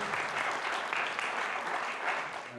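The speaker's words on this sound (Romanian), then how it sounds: "Aplauze, bravo!" Dense, continuous applause from an audience at a gala comedy show fills the room, steady and fairly loud throughout with no pauses.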